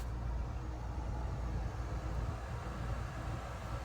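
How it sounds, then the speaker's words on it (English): A small car's air conditioning fan runs on its low setting, giving a faint, steady whoosh of airflow with a low rumble beneath it. No voices are heard. "it's on low at the moment, so all you should hear is this whooshing sound"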